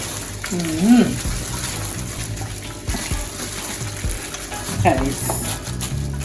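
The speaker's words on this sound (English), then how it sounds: "I'm gonna put in a little butter and a little cooking oil." Butter and cooking oil sizzle in a pot on a home kitchen stove. The steady frying hiss is broken by a few stirring scrapes near the start and again near the end, with faint speech in the background.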